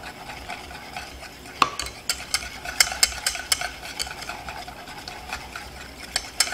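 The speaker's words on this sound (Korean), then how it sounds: "한 방향으로 섞어주시고 빠르게 섞어주시는 것이 좋습니다" Hollandaise sauce being whisked quickly in one direction over a warm water bath, a light steady scraping and clinking of whisk against bowl with soft irregular ticks, close and alone without speech.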